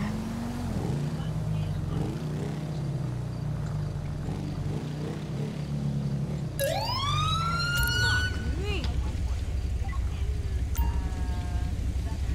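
A police car siren wails in GTA V with the LSPDFR mod, rising and falling sweeps that start partway through over a low engine rumble and a voice, followed by a few shorter yelps.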